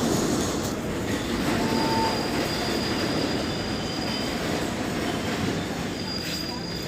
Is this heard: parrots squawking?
no